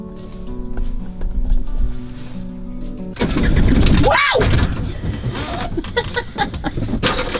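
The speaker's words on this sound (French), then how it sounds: "Normalement là il est censé démarrer au quart de tour" A car engine cranks and catches after preheating, roaring up abruptly to a loud, rough run after a quieter stretch, with people talking nearby.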